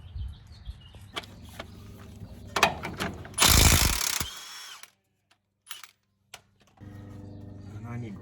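A ratchet wrench tightens a lift spacer onto the front suspension of a 1997 4Runner during a 3-inch lift kit install. Short bursts of mechanical ratcheting and clatter are heard, with one loud, dense burst in the middle, then quiet gaps and scattered clicks.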